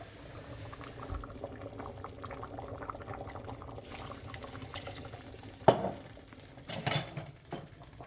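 Spanish bean soup with chorizo bubbling at a steady boil in a pot, a continuous low simmering burble with a sharp clink of a utensil or lid near the middle and a few softer knocks afterward.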